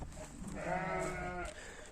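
In a new barn of about 70 square metres, a single sheep lets out one drawn-out wavering bleat at moderate distance, over a low murmur of the flock.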